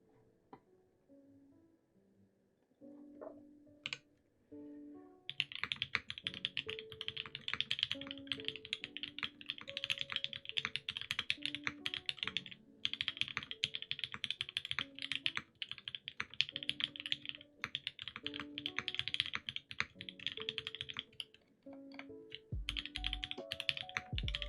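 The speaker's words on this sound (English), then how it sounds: "I need to practice my typing." Rapid, continuous typing on a computer keyboard during a typing test, dense clicks and clacks running steadily and close for about twenty seconds after a few isolated keystrokes at the start.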